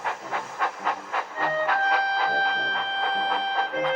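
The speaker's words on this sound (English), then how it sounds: "The next day, Thomas puffed to the coachyard." Animated steam locomotive puffing along toward a coachyard, a steady rhythmic chuff of regular bursts with a hissing wash overhead, joined partway through by a sustained whistle-like tone over the repeating beat.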